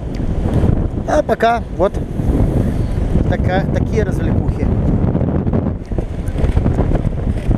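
Strong storm wind gusts across a seafront mic, roaring and buffeting without a break, with waves likely mixed in. Someone speaks briefly over the noise.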